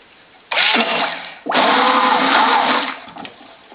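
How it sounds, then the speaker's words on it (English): A stick blender whirs loudly in soap mixture in two bursts, a short one cut off, then a longer steady run that fades out. "This is a temperamental stick blender."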